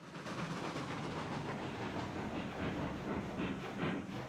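A double-headed steam train rolls along rails in the video game Railroads Online, a steady, close rumble with rhythmic clickety-clack and faint hiss continuing throughout without talk.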